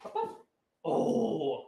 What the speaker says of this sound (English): He's a reason you can hear a dog in the background